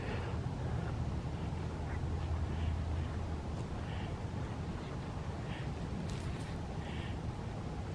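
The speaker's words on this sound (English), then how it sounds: "I see a duck" A mallard duck quacks at a park pond on a cold morning, several short, rasping quacks at a moderate distance under steady wind or water noise.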